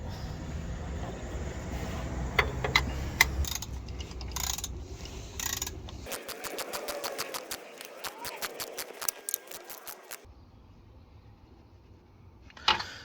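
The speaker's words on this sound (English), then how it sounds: "Just get my ratchet on it." A ratchet wrench works a 17 mm bolt on a BMW E92 rear shock absorber. A quick run of evenly spaced metallic clicks sits among a few scattered knocks and handling clatter, quiet and close.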